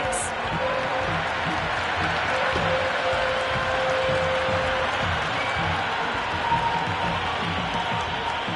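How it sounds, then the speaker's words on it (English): A large crowd at a cricket stadium during an India versus Pakistan ODI buzzes and cheers continuously from the stands, a dense steady roar that sits under commentary throughout. "It's the most enthusiastic crowd you could ever see right now. There's a buzz, a real buzz coming from the stands."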